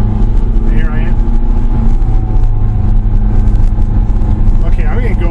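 Ferrari F430 engine droning steadily while driving, a loud continuous low rumble throughout with people talking over it.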